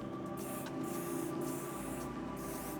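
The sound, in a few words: hair spray being sprayed onto styled hair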